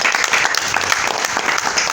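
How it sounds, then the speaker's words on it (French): An audience claps at an NGO event in Kinshasa, a loud, close, continuous burst of many hands applauding with a fairly even rhythm for about two seconds. "on peut applaudir"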